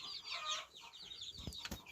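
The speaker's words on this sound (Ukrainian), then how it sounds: "А ось ці курчата Легебар" Young Legbar chicks, sick with coccidiosis, give soft clucks and peeps close by, with a few brief sharp sounds near the end.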